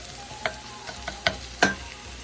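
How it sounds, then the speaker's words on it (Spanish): Chopped garlic fries in a pan with a soft, continuous sizzle, broken by a few sharp scraping stirs of a utensil against the pan. "Movemos un poquito y esperamos que se fría también el ajo."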